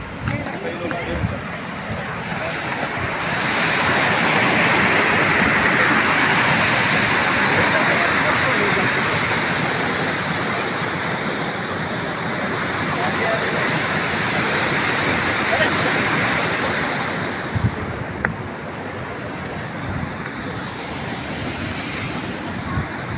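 Water flowing steadily along a village path, a continuous broad rushing wash that swells and eases slightly over time, with faint voices underneath.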